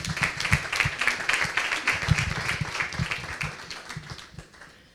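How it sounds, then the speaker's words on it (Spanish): Applause rises from the audience at a real estate and sustainability panel event, a fairly quiet run of scattered claps that thins out toward the end. "os pido que le deis un fuerte aplauso"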